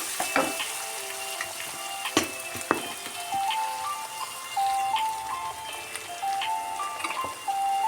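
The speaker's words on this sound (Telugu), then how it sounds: "అల్లం ఒక స్పూన్ వేసుకున్నా అల్లం బాగా వేగాలి మంచి స్మెల్ వచ్చేటట్టుగా" Ginger fries in a pan for a bitter gourd tamarind curry, with a steady close sizzle and occasional stirring clinks and pops. Light tonal background sounds run underneath.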